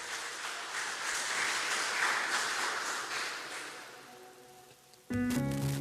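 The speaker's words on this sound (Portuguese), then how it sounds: "Dê uma salva de palmas ao Senhor" A church congregation claps together, a steady wash of applause that slowly fades out, followed by a brief burst of louder music or noise at the very end.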